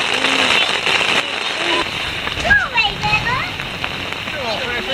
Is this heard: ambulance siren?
no